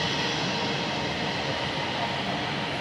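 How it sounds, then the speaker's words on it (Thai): A train passes with a steady, broad rumbling roar that stays constant and fairly loud throughout, with no distinct clacks or horn and no voices over it. "โอ้ยรถไฟมาอีกแล้ว รถไฟคือวิ่งไปวิ่งมาอยู่"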